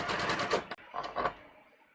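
A sewing machine runs a side seam on a shirt with a shaped shirt-tail hem: a close, dense motor whir stops abruptly midway, then resumes in a softer second run that fades out.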